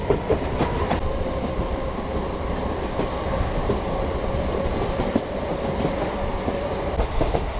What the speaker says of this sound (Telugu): సో మన ట్రైన్ గుమ్మడిపూడి నుంచి అయితే బయలుదేరిపోయింది.